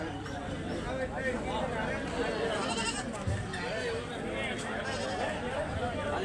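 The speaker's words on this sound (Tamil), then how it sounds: "இது ஆடு தாங்க கருப்பு ஆடு" A black goat bleats repeatedly at a busy livestock market, its wavering calls mixed with other animals and a background of crowd chatter and voices.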